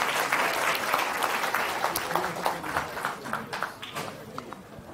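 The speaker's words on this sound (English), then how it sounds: "Let's give another round of applause." Audience applause after a technology and privacy talk, a moderate crowd clapping steadily and then tapering to scattered claps, with faint voices underneath.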